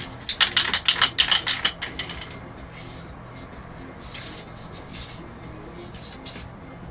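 A spray can coats the rear bumper of a Revell GMC Syclone model car kit with a rapid run of short, close hissing bursts, then a few more isolated puffs after a pause.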